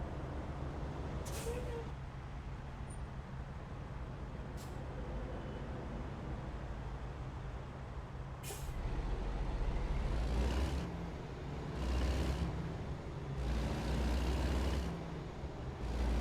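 Truck in American Truck Simulator driving through Texas, a steady low engine rumble with a few sharp air-brake hisses and swelling passes of other traffic, some faint voice in the background.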